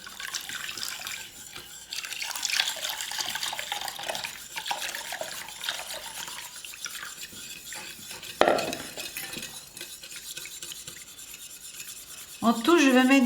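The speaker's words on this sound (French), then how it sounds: "Je vais mélanger doucement et ajouter le liquide que j'avais récupéré auparavant." A spoon works gently through a wood ash detergent paste, making a continuous soft wet rasping and scraping that runs for several seconds, with a couple of sharper clacks against the container and no voices.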